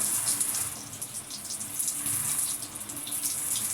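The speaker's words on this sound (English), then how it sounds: "you just want the water to cascade down your hair" Water pours steadily from a shower over hair, a constant splashing hiss with slight fluctuations as it falls close by.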